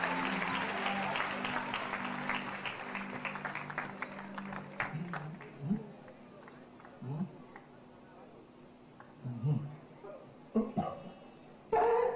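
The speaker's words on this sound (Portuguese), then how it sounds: "Vamos aplaudir ao Senhor." A church congregation applauding the Lord, clapping strongly at first and then thinning out as voices and murmuring take over, with a few scattered claps later on.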